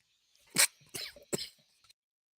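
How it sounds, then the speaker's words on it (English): A person coughs three times in quick succession, close and loud, followed by a faint short throat sound, with no talk around it. "I coughed, you started coughing."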